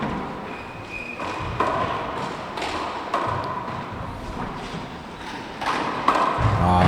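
Handball shots smack the front wall during a women's 4-wall handball final, several sharp thuds scattered through a reverberant court with crowd noise and commentary running throughout.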